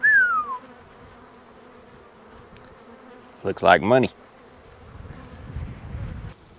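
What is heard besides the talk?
honey bees buzzing around hive boxes in cotton field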